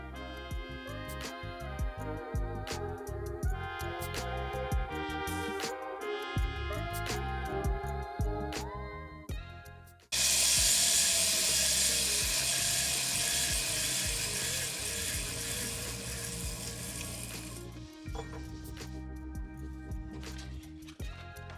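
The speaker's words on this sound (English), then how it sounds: "we'll sand that out on the linisher, smooth them off" A linisher belt sander smooths knurled ends of steel chassis parts for a 1930 Ford hot rod, with a loud harsh continuous grinding roar that jumps up midway and then drops back.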